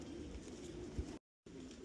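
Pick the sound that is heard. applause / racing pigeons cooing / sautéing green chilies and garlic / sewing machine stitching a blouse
racing pigeons cooing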